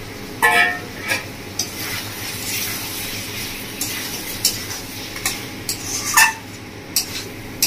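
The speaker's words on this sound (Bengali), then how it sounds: "ভালো করে কষিয়ে নেবো।" Chicken stir-fried with roasted, ground urad dal scrapes and clinks under a spatula in a pan, with bursts of metal scraping over a quiet low sizzle.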